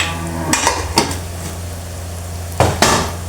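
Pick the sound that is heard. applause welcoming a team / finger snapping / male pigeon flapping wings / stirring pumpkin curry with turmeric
stirring pumpkin curry with turmeric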